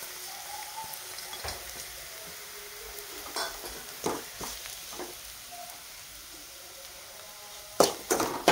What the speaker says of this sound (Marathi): रवा पण आपल्याला ह्या मसाल्यामध्ये छान परतून घ्यायचा आहे